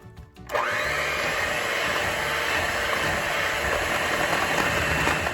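An electric mixer switches on with a click and then whirs continuously as it beats boxed cake mix batter, a steady close motor drone lasting several seconds with no talking.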